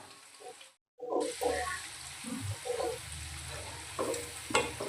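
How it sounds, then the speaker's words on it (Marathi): Pearl millet flour fritters (bhaje) frying in oil over a low flame, a soft steady sizzle with occasional stirring clatters, close and fairly quiet. "तर छानपैकी मंद गॅसवर त्याला आपण तळून घेऊ"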